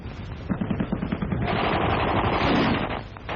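Archival street fighting from the 1944 Liberation of Paris, with rapid bursts of machine-gun fire giving way to a dense, sustained roar of gunfire that swells and fades, loud and close.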